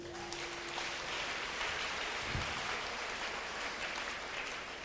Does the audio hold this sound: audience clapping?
yes